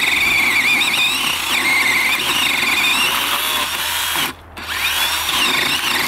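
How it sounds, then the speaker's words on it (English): A small DeWalt pull saw whines and rasps steadily through a large fallen tree in a snowy campsite, with the cutting loud and close and briefly pausing near the end. "This is our little Dewalt pull saw. We've never used it on something quite this big."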